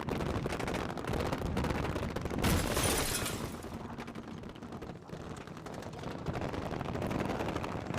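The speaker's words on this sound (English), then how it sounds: "A lot more explosions so far." Bursts of gunfire and booming explosions in a busy action soundtrack from Iron Man deleted scenes, with a louder blast swelling midway, no speech.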